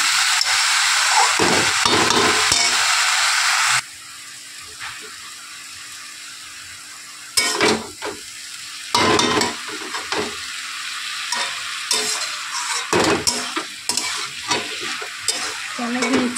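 Spices frying in hot oil as turmeric and chili go in, a loud hissing sizzle at first that drops to a quieter crackle, then bursts of stirring and scraping return in uneven clusters.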